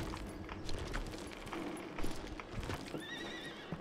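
Horse hooves clip-clop along in the Western video game Call of Juarez Gunslinger, with a clear neigh near the end, set against a busy background of ambient game sound.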